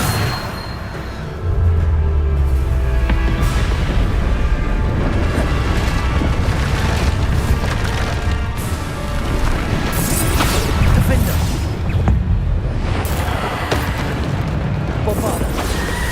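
Bombarda spells in Hogwarts Legacy blast again and again, loud booming explosions and crashes layered over dense ongoing game sound.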